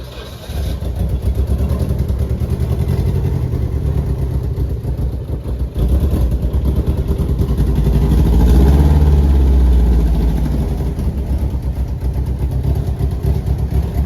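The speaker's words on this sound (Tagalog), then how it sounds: "Start mo nga pare, mamaya di umi-start yan." An SR20DET engine in a Nissan Maxima with a cut exhaust pipe cranks, fires up and settles into a loud, rough idle. It rises in a brief rev midway before dropping back to a steady idle.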